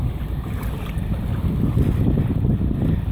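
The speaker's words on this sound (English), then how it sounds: "Wind is kind of going a bit for us, a bit against us" Sea wind buffeting a microphone while kayaking off a beach: a steady low rumble with rushing gusts and faint water noise, close and fairly loud, with no talk.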